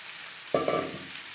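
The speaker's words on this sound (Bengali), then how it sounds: "পেঁয়াজ লালচে করে ভেজে নেওয়ার পর দিয়ে দেবো টমেটো" Onions and tomato frying in a pan for a Bhola fish tomato curry: a sudden close sizzle bursts in partway through, with a second surge as more goes in, then a steady crackle that fades slightly.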